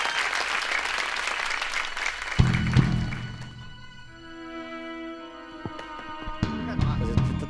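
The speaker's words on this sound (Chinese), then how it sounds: "掌声鼓励鼓励" A television variety-show studio audience applauds for the first few seconds as a performance is introduced, then the clapping fades under a brief stage music sting with sustained tones and a few thumps.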